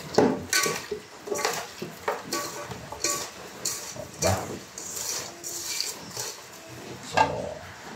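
Pork adobo being mixed with sugar in a pan, a spoon scraping and clattering against the pan in repeated strokes with faint sizzling underneath, close and fairly quiet.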